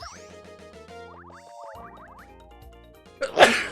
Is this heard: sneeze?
yes